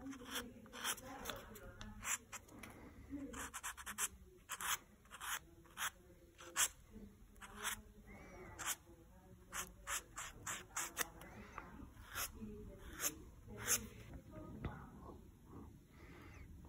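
Glass manicure buffer lightly rubbing a fingernail, a soft, quiet scratchy swishing in short repeated strokes, close and delicate, with faint talking mixed in.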